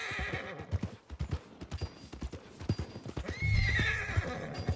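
Video game sound: steady clip-clop of horse hooves on a hard surface, joined near the end by a loud, drawn-out whinny close by.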